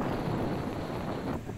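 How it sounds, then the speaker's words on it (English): Strong wind buffets the microphone on a beach, a steady, rough roar that fills the whole clip and eases slightly near the end. "This was a very windy beach"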